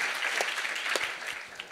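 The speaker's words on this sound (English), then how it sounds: "Mard Barlow, give her another round of applause." A crowd applauds at an environmental anniversary celebration, dense steady clapping filling the room for the whole stretch, with scattered sharper claps standing out.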